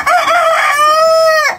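A farmyard rooster giving a single loud, close, drawn-out crow that lasts over a second and a half, clear and alone with no talk.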